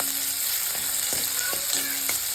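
Onion and vegetables for white sauce pasta fry in a pan over a high flame with a loud, steady sizzle, punctuated by regular scraping strokes of a stirring spoon.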